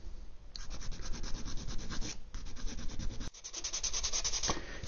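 Fine 800-grit sandpaper rubbing over a part of a 1/250 scale Yamato model battleship, a steady close scratchy swish in quick strokes, pausing briefly twice, with no voices.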